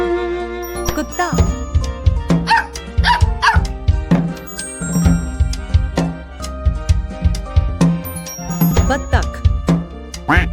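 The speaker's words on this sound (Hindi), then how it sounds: "कुत्ता" A cartoon dog barks repeatedly in quick bouts over busy background music in an animal-name game clip, the yaps sharp and fairly loud.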